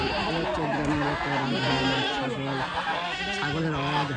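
Goats bleating in a rural village, several loud overlapping bleats close by and continuing throughout, mixed with other farm animal noise and a little background chatter.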